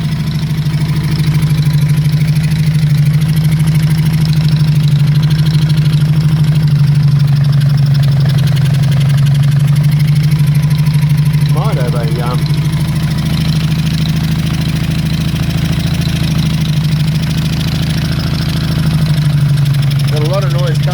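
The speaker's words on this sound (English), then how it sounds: "Got a lot of noise coming from number 2 carburettor." A Honda CB350 Four motorcycle engine idles unevenly while missing on a couple of cylinders, with noise from the number 2 carburettor, a loud continuous low rumble close by throughout.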